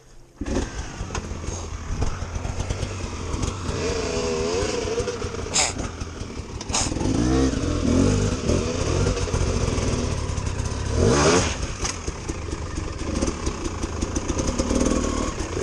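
A motorcycle engine runs steadily nearby, chugging with a rough idle and a few rising revs, with voices talking briefly over it.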